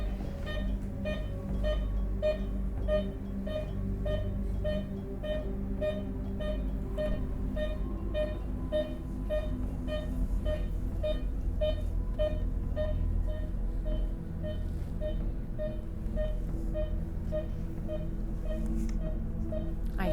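An air-current detector used in a paranormal investigation at an old school beeps in steady, evenly spaced electronic pulses throughout, over a constant low background hum.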